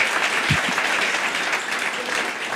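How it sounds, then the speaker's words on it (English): An audience at a film festival conversation breaks into steady applause, a dense, even wash of many hands clapping that holds at a constant level with a brief low thump early on. "let's have a round of applause for that"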